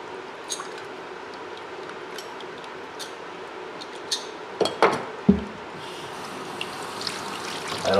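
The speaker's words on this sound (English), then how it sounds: "I'm gonna throw it back in that fresh pot of water for another 15 minutes or so on a real light boil" A bear skull goes back into a pot of water at a light boil, making a few soft knocks and a brief wet splash over a faint, steady background.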